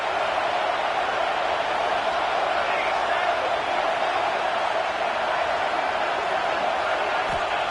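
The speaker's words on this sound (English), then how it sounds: "Decibels rising as the crowd gets behind this defense on 3rd down." Steady, dense crowd roar from a football video game stadium, holding loud and even throughout as fans back the defense on third down.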